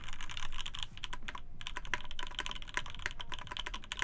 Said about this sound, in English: the more I type on this, I quite like the natural sound of it with no foam or anything